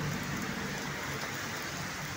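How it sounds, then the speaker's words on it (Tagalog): Steady rain falling in San Agustin, San Fernando, Pampanga, a dense, even hiss that stays constant and fairly loud throughout with no voices. "Yan, umuulan mga idol, umuulan."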